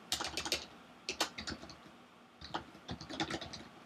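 Someone types code on a computer keyboard in quick clattering bursts of keystrokes, with a short pause near the middle, close and clear.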